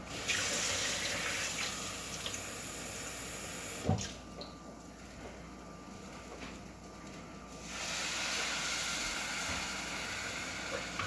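Water pours steadily into a pot, a close, continuous splashing flow that briefly pauses midway before resuming.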